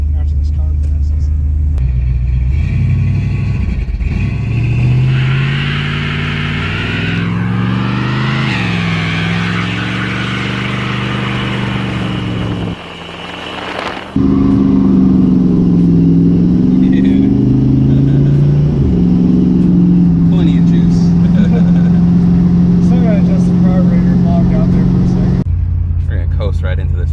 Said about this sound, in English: At least gotta give you a burnout